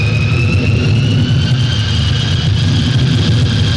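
A loud, steady engine roar with a high whining tone, close by and continuous, from an airplane engine just before takeoff.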